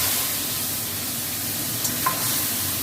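Whole garam masala tempers in hot oil with a steady, close sizzle that hisses evenly throughout, plus a couple of faint brief clicks near the end.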